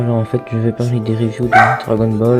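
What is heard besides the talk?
dog barking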